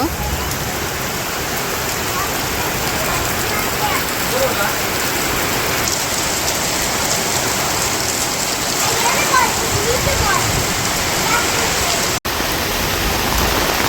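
Rain falls outdoors on a cool, windy day near a cattle market in Bangladesh, a dense continuous patter and wash of drops close around, loud and steady with a brief break near the end.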